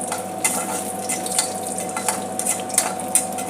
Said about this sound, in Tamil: இப்போ அதில் வரமிளகாய் போட்டு தீயை கம்மியாக வச்சிடணும்.